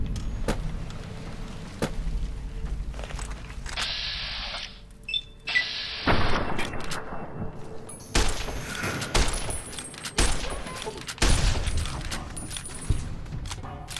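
Rifle gunfire in the video game Fallout: New Vegas cracks out in several sharp, loud bursts spaced a second or two apart, mixed with clattering game sounds and a low background hum.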